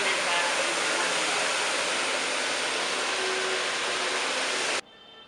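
Hurricane 900 XTT 30-inch cylindrical floor scrubber running while it turns, a loud, steady broadband whoosh of motor and brushes that holds evenly and then cuts off abruptly near the end.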